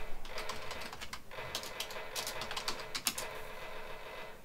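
Office workers typing on keyboards in the Space Quest III game with Roland MT-32 sound, bursts of quick clicky keystrokes in uneven clusters with short pauses between them.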